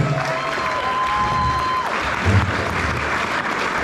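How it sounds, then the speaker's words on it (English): Applause from a crowd at a karting club's end-of-season awards evening, a steady wash of clapping filling the room for a few seconds, with a faint voice briefly heard over it. "So a round of applause."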